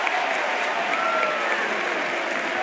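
A college baseball crowd at an NCAA regional game between East Carolina and North Carolina applauding and cheering, a steady wash of clapping and shouts, loud and continuous throughout.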